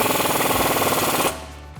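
A socket tightens the 18mm shock mount bolt on a 1994–2004 Mustang fitted with a Pedders eXtreme XA coil-over kit, producing a loud, fast, rattling burst like an impact gun that runs for about a second and then stops abruptly.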